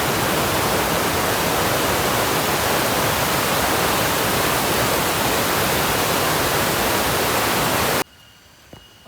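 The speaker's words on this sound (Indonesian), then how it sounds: "Ini dia air terjun Benowo." Benowo waterfall at the foot of Mount Ungaran in Java, a dense, steady roar of falling water that stays loud and unbroken for about eight seconds, then cuts abruptly to near quiet.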